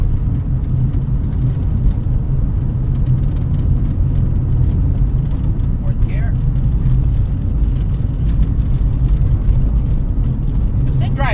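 A 1984 Dodge Mini RAM truck cruises along in fourth gear, its engine and road noise forming a steady low drone with faint squeaks over it.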